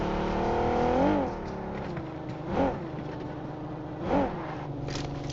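A car driven in a video game hums steadily throughout, with three short rising revs or swooshes as it accelerates and passes, and no talk over it.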